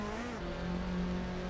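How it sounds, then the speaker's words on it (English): A Toyota Celica ST185 race car's engine drones steadily, loud and close, as it is short-shifted during an SRS Series race at Bridgehampton, holding a sustained note throughout with no talk. "Listen to his engine."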